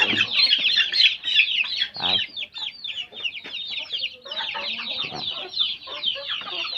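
Native fighting chickens cluck and chatter continuously in a busy, close chorus, with scattered sharper calls and no voices.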